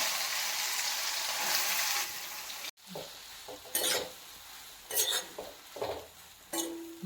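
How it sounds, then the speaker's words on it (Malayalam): A spice mix frying in oil gives a steady sizzle at first, then stops, followed by intermittent stirring scrapes and metal utensil clinks against the pan, close by and without speech. "ഇതെല്ലാം കൂടിയിട്ട് മിക്സ് ചെയ്താണ് അത് നമുക്ക് ഇതിലേക്ക് ഇട്ടിട്ട് ഫ്രൈ ചെയ്തെടുക്കാം ആ എണ്ണയെ തന്നെ ഇങ്ങനെ ഫ്രൈ ചെയ്യും"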